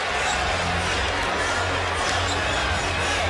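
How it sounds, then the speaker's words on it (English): A basketball arena crowd cheers at the 2001 NBA All-Star Game, a dense, steady roar that fills the whole stretch with no break. "And this crowd is now very much into it."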